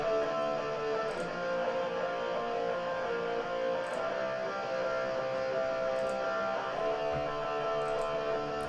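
Dense, sustained distorted rhythm guitar with a tight, scooped American-style EQ tone, chugging steadily at close range with no voices over it.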